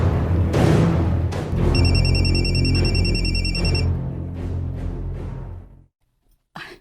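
A telephone rings loudly close by in a Filipino drama scene, its bright, steady electronic ring running over a dense, muffled background for a few seconds before cutting off into silence.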